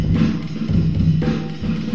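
A loud, short burst of the original drum loop, with punchy kick, snare and cymbal hits in a quick breakbeat groove.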